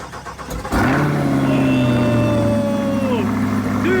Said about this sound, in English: are you ready to fire this thing up?